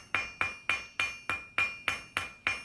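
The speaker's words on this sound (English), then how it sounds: "Again, rotating as you hammer." A hammer strikes hot steel while a wall hook is forged and rotated between blows: nine evenly spaced, sharp ringing impacts, loud and close, each decaying quickly before the next.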